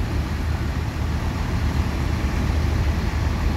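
Steady low engine rumble of a front-engine Hino Euro 4 bus idling or moving, continuous and fairly loud, with road noise and no voices.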